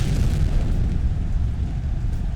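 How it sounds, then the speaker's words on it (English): An in-game explosion from the AEW Fight Forever wrestling video game, a dense low rumbling boom that holds steady and loud through the whole stretch with no voices over it. "The smoke, the explosion itself"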